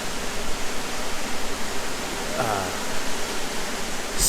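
A waterfall pours into a rock bowl in Gogebic County, Michigan, a steady, loud, broadband rush filling the whole scene, with a brief voice cutting in over it midway.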